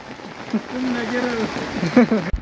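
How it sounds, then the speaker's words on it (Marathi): Heavy rain pours steadily in a continuous close wash, with a voice heard over it for most of the clip. "भरपूर पाऊस आलाय"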